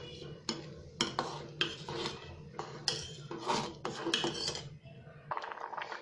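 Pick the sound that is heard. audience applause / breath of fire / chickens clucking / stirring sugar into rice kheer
stirring sugar into rice kheer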